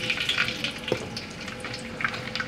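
Herbs tossed into hot oil for a fish curry, sizzling and crackling steadily at close range with a few sharper spits, the frying sound continuous throughout and alone.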